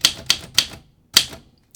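A typewriter with a hard platen strikes sharp, crisp keystrokes close up: three quick clacks, a short pause, then another strike, each with a piercing bright attack.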